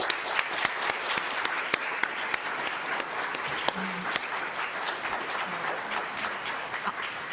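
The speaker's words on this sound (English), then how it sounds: "I think we should give them a round of applause." An audience at a school board candidate forum gives a round of applause, moderately loud continuous clapping with distinct sharp individual claps standing out and a few voices underneath.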